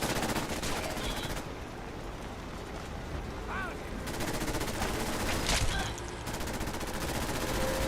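Continuous heavy gunfire in Fallout 4, a dense barrage of overlapping shots and blasts filling the whole stretch, with a voice talking over it.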